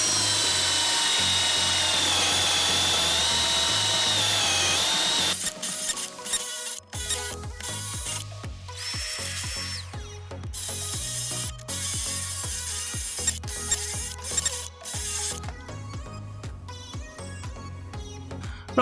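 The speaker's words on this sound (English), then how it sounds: "let's see if the drill can actually handle the large Forstner bit" A Hikoki DV 18DBFL2 cordless combi drill with a 32mm Forstner bit bores into a 2x4, whining steadily at first, then stuttering in bursts as the motor starts and stops repeatedly under load, close and loud.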